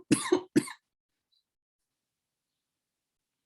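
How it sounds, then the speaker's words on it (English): A person coughs twice in quick succession, close and fairly loud, followed by silence. "Even though I'm coughing now"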